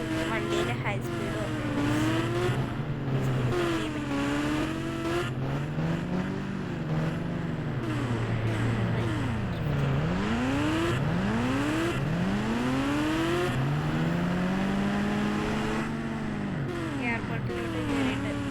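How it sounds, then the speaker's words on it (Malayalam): A video game car engine runs at high speed, its tone climbing and falling through repeated gear shifts in a loud, sustained whine, with a voice speaking over it. "വണ്ടിയുടെ ഹൈ സ്പീഡ്"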